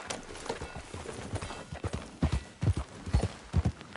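Horse hooves clip-clopping in Red Dead Redemption 2, an uneven quick rhythm of hoof strikes growing louder and closer over a few seconds, without speech.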